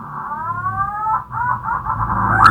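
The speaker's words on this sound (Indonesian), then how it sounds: "Ini suara burung kayak gitu, tapi kalau di hutan kan serem juga." A bird calls in a forest with sliding, whistled tones that rise and repeat, moderately loud over a steady, noisy outdoor background.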